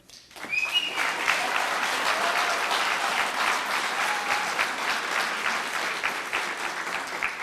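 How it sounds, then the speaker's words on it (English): Sustained audience applause fills a mayoral debate hall in Medford, a dense wash of many hands clapping that swells quickly and holds steady and loud, with no talking over it. "we ask that you hold your applause following responses"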